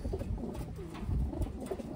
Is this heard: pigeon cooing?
yes